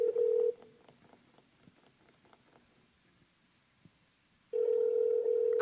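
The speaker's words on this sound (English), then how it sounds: "So my phone is calling." A mobile phone placing a call gives a steady electronic tone at the start, then quiet faint rustling for several seconds before the loud tone returns and holds.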